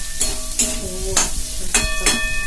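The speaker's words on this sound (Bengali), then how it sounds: "গাজরটা আলুটা একটু ভাজা করে নিয়ে তারপরে পেঁয়াজ লঙ্কা দিয়ে" Potatoes and carrots fry in a pan, with a steady sizzle broken by several sharp scraping strokes of a spatula stirring the pieces, close and fairly loud, with no talk.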